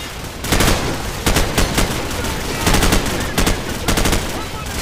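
Video-game gunfire during an ambush near a building: repeated bursts of rapid automatic shots, loud and close, broken by short pauses over a steady background din.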